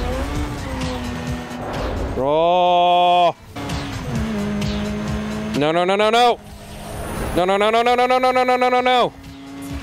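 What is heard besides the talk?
Pontiac GTO engine in video game Need for Speed Underground 2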